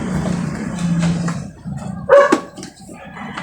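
Pet dogs bark in a short burst near the middle, with a few sharp yelps standing out over steady background noise while a desk fan motor is being fitted with its cover.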